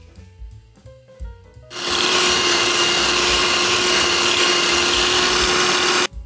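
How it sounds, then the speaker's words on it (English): A hand mixer blends a cream cheese mixture with sugar and salt for a copycat Starbucks cheese danish. A few soft knocks come first, then the mixer starts into a loud, steady motor whir that holds for about four seconds and cuts off abruptly. "Next, we're going to take a hand mixer and we're going to blend it until it's nice and"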